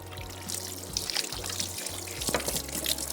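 Whey is squeezed out of fresh chhena cottage cheese, a close, steady pour and trickle of liquid with small drips running throughout.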